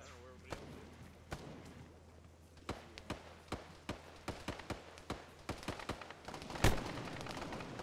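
Gunfire from a recoiling gun in a video game cracks in a series of sharp shots, sparse at first then quicker and more regular, with one louder blast near the end; a voice talks briefly.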